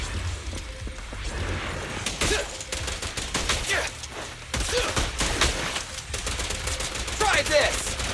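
Gunfire rings out in rapid irregular bursts of sharp cracks, loud and close, continuing through the whole stretch with no talk over it.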